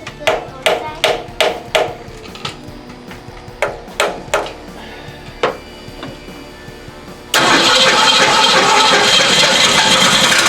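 A 1970 Ford Mustang Fastback engine on its first start, cranking in a series of sharp bursts that catch and die, then catching into a loud, steady, rough-running roar near by.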